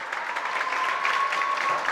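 An audience at a regional oratory competition award ceremony claps steadily, a dense, even burst of applause lasting a couple of seconds with no talk over it.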